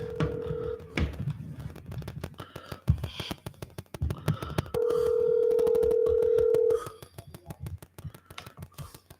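A telephone being dialed to reach a caller: a fast run of short touch-tone beeps alongside a long steady tone, with background voices and clicks, close and clear.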